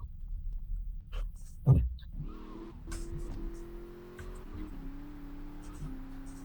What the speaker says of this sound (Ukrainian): Ну, це машина їде.